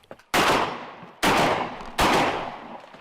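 Three loud, close shotgun blasts from duck hunting on a lake or river at the opening of game bird season, each a sharp crack trailing into a rolling echo, spaced roughly a second apart.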